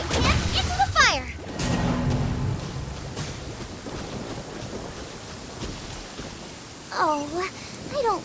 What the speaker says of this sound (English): Oh, I don't like the rain.